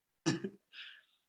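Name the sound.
cough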